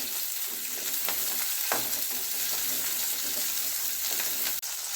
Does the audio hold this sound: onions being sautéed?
yes